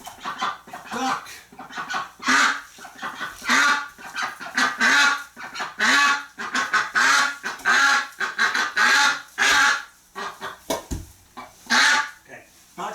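A duck calls in a barn, a run of loud, close, honking quacks repeating in rapid bursts, with a voice heard among them.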